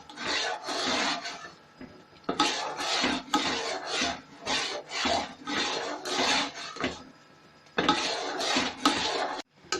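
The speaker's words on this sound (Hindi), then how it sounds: "ये चीज़ें डाल के आप चम्मच से इसको अच्छे से हिलाएं ताकि हर चीज़ मिक्स हो जाए।" A spoon scraping and rasping through a thickening kulfi mixture with pistachios and almonds in a pot, close and fairly loud, in repeated bursts of strokes with short pauses between.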